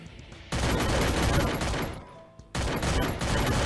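Sustained bursts of gunfire from the Free Fire battle royale game, a dense near volley that drops briefly to a lull before another heavy burst resumes.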